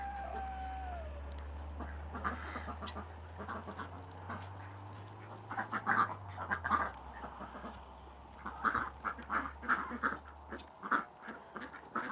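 Farm ducks, with chickens nearby, quack and cluck in bursts while being fed in cold weather, close and busy with irregular overlapping calls over a low steady hum.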